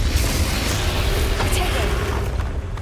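In Hogwarts Legacy combat, a Bombarda spell goes off with a loud, sustained boom and rumble, with crackling bursts layered over it in close surroundings.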